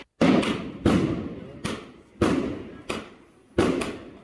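Five or six sharp firework bangs at irregular intervals, each a loud thump followed by a short crackling decay, with quiet gaps between.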